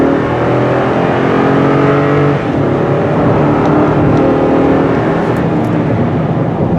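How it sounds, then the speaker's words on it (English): A 2020 Toyota Sequoia TRD SUV with a six-speed gearbox accelerates hard, its engine roaring loud and close in a steady, rising drone with a brief dip partway through. "Not the quietest engine I've ever had, but strong."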